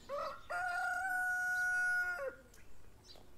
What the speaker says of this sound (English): Can't make a video without the rooster going off.